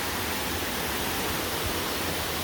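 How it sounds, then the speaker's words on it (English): Mill Creek Waterfall at an overlook in the Cleveland Metro Parks, a steady broadband rush of falling water filling the whole clip with constant, even roar and no voices. "This is Mill Creek Waterfall, and this is the overlook."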